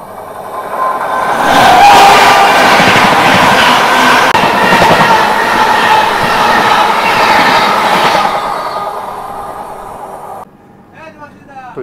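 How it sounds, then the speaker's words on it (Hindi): The North East Express passenger train thunders past close by on an Indian railway track, a loud, steady roar with rhythmic clatter for about ten seconds before dropping away. A voice is heard briefly at the end. "तो ये गई नॉर्थ ईस्ट एक्सप्रेस"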